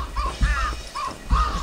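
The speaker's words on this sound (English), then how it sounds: "They're making crow noises." Crows caw inside the video game Thirty Flights of Loving: three or four harsh, close calls come in an uneven rhythm, standing alone with no talk over them.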